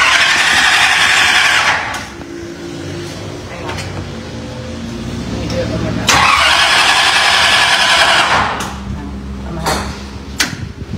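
A small engine on a shelf is cranked hard in two long, loud whirring bursts separated by quieter pauses, with a voice heard between and around them.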